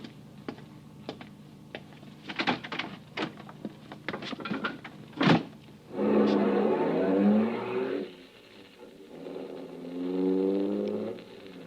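A car pulls up in a radio drama sound effect, its engine surging and settling for several seconds after a burst of sharp clicks and thumps, fairly close and loud, with no voices over it.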